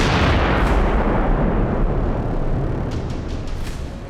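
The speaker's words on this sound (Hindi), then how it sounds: "बंकर बस्टर बम, इजराइल का नया हथियार।" An Israeli bunker buster bomb blast in Gaza, a huge deep rumbling explosion that roars loudly at first, then slowly fades as debris crackles faintly toward the end.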